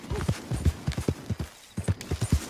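Horse hooves clip-clop in Red Dead Redemption 2 in a steady walking rhythm, close and clear, with a brief pause midway before the hoofbeats resume.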